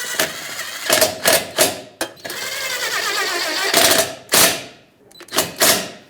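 Bolts on the radiator bracket of a 2012-2018 Nissan Altima being run down in a string of sharp, rattling tool bursts, close and loud, with one longer sustained buzzing run in the middle and short pauses between.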